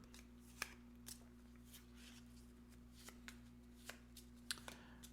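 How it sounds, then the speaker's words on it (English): Quick riffling and snapping of a Gloomhaven: Jaws of the Lion board game card deck being shuffled, a series of sharp crisp bursts close by over a low steady hum. "we pick up our deck, shuffle them, and discard one of them at random"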